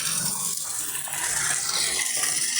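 Water pours steadily from one fish pond into another at a fingerling farm, a continuous close rushing, gushing flow with no pauses and no talking.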